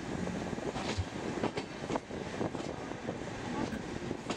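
A passenger train creeps slowly across a tangle of station rail lines, rumbling continuously with irregular wheel clunks and clicks over points and joints, moderately loud, with no one speaking.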